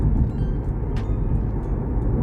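A steady, low engine drone from inside a moving 2020 BMW 118i M Sport with a 1.5-litre turbo petrol engine, constant and fairly loud, with no voices.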